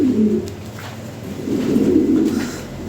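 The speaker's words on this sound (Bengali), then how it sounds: "খুব ভালো কবুতর।" Pigeons at a large breeding farm coo in low, rolling throaty phrases, close and fairly loud, two bursts of cooing over a few seconds with no talk.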